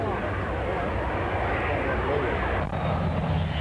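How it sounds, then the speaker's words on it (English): A Neptune patrol aircraft with both jet and piston engines roars at a 1983 RAAF air show, a loud, steady, broad engine drone filling the whole stretch with little change in level. "Neptune has both jets and reciprocating engines, and there it is going into reverse"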